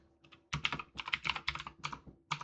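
Someone types on a computer keyboard in a quick, uneven burst of close, crisp key clicks with short pauses between groups.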